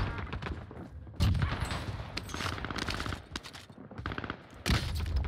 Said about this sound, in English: Dude, I'm getting sniped, bro.